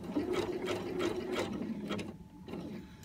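A sewing machine stitching a cord coil for a dough proofing bowl, a rapid mechanical rattling run of stitches that pauses briefly near the end, close and moderately quiet.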